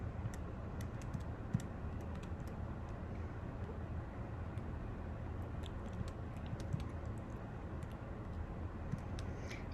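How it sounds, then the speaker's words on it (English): Steady, continuous keystrokes on a computer keyboard during a precalculus law of cosines problem, with faint, close clicks running throughout over a constant low background hum. "I love these because I can just type all this in."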